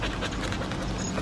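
A dog pants rapidly and steadily at close range, a continuous breathy huffing with no pause and no talking over it.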